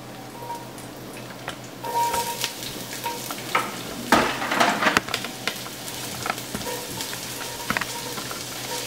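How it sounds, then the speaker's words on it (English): Diced onions sizzle in medium-hot oil in a pot, a steady crackling fry punctuated by scraping and stirring clatters, loudest in a burst midway. "move them over to the pot and put them into the medium hot oil"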